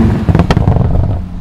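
A Bentley Continental GT Speed with a twin-turbo W12 engine gives a short, loud, close-up rev, a sharp crackling bark that quickly fades.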